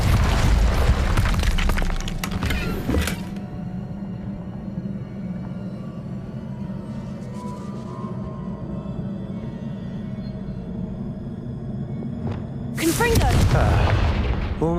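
Incendio fire spell cast in Hogwarts Legacy on Nintendo Switch, a loud booming fiery burst at the start and again near the end, with a steady low rumble and crackle sustained between them.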